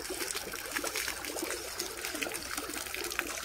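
Water flows back out once a container fills, a steady close trickle and splash that continues without a break and without voices.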